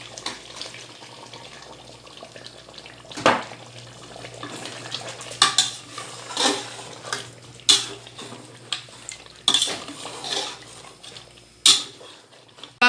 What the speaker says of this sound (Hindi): फिर हम इसको 5 मिनट तक अच्छे से भूनेंगे।